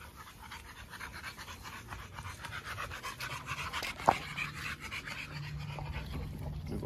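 A five-month-old dog pants quickly and steadily up close, a soft rhythmic huffing that runs through the whole stretch, with one sharp click partway through.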